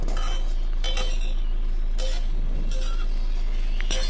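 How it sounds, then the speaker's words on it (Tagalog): Beef steak and mixed vegetables stirred in a pan with cooking oil, scattered light clinks and scrapes of a utensil against the pan over a steady hum, close and moderate in level. "haluin lang po natin para maluto"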